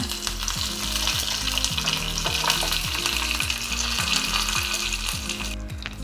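Mustard seeds, dried red chilli and curry leaves crackle in hot oil, a dense, close sizzle with bursts of popping spread evenly throughout, no voices over it.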